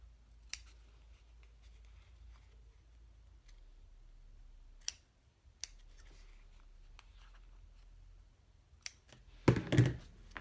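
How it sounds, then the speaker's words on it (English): A few sharp, isolated snips of scissors cutting the corners of cork for a wallet, spaced across a quiet stretch, ending in a louder burst of cutting or rustling near the close. "I come back and snip the corners with my scissors"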